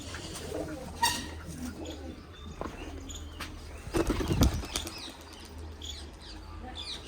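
Pigeons take off with sharp bursts of flapping wings, a loud flurry near the middle, while soft cooing carries faintly through the outdoor background.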